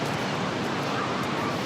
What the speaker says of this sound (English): We're at the beach today.